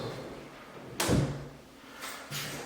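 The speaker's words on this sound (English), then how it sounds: "we'll close our door and see how it looks" A wooden pocket door in a small barndominium with fresh black walnut trim slides shut with one firm thud, followed a second later by a softer bump or rattle against the jamb.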